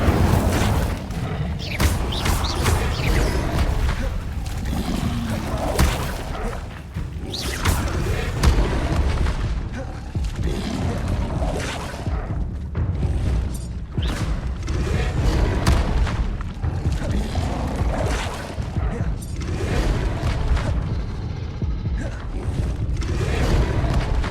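Incendio fire spells cast in Hogwarts Legacy, a dense run of booming fiery blasts and rumbling impacts layered over game music, loud and continuous throughout.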